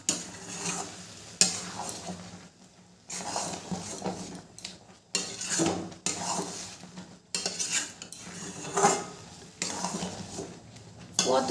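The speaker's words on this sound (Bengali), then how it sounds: "মশলাটা দিয়েও আমি কুলের সাথে ভালো করে মিশিয়ে নেব।" A spoon stirs and scrapes jujube pickle mixed with spices in a bowl, with repeated clinking, scraping strokes in uneven bursts, close and fairly quiet.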